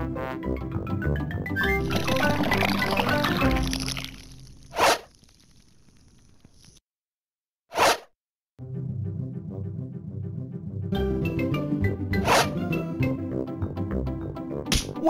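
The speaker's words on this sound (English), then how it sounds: "Daddy Pig must pour out the mixture." Cartoon music from the Peppa Pig Nintendo DS game is interrupted by a few short, gushing splash effects of pancake batter being poured, with brief silent gaps between them.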